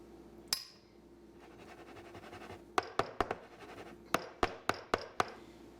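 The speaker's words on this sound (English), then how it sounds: "Put on the lid, tighten it up, and it's ready to sit in your pantry." Lid set onto a glass jar and twisted tight, one sharp clink followed by soft scraping, then a series of quick crisp taps and clicks in two short clusters, close and quiet.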